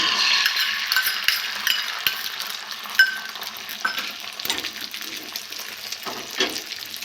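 Egg sizzles and fries in a hot pan for an egg roll, a steady bright crackle with scraping stirs and a few metallic clinks of a utensil, close and alone.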